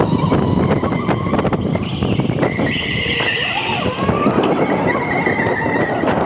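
A go-kart drives through corners on a track, its engine buzzing and revving up and down with tyre scrub and rattles, loud and close throughout, with no talk.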